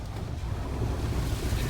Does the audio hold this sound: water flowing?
yes